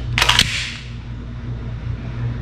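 A blank magazine is pushed into a custom OD green Glock 34 pistol with a single sharp, close metallic click early on, followed by quiet room hum.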